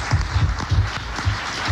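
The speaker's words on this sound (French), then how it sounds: "il n'y a pas marqué applaudissez, ils applaudissent quand même" A French radio-studio audience applauds, a fairly loud, steady clapping with lower thumping hits in an uneven rhythm, heard alone for under two seconds.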